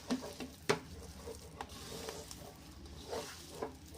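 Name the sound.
mixing masala into idli pieces by hand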